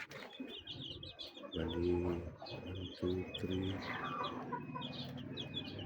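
Newly hatched chicks, a batch of eight about two days old, peep in a steady high chatter throughout while someone talks nearby over them.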